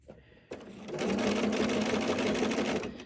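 A sewing machine runs a seam on a fabric crossbody bag, a fast, even mechanical clatter that starts after a brief pause and keeps a steady rhythm close by for a few seconds.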